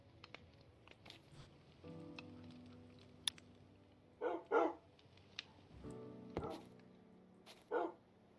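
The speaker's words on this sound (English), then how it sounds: "I'd have to mute all the dog noises" Dogs barking in the Minecraft video game, several short sharp barks and yips at scattered intervals over a faint low background hum, with no talking.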